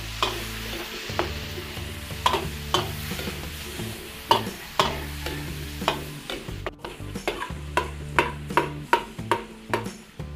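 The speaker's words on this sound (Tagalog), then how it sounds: "Gisa muna natin yung manok." Chicken sautéing in oil in a pan, with a continuous sizzle and a run of sharp, regular stirring knocks and scrapes of a utensil against the pan, close up and without voices.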